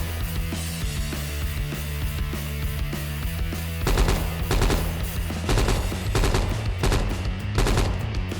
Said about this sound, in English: Currently using burst fire.